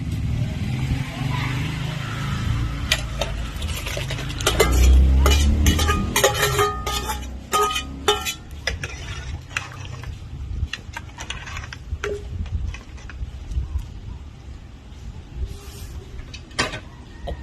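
Pig blood previously boiled in vinegar being stirred into a simmering pot of dinuguan, with close metal spoon-and-pot scrapes and clinks in an irregular rhythm over a low bubbling simmer, with a voice at times.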